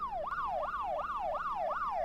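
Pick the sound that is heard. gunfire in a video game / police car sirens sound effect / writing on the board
police car sirens sound effect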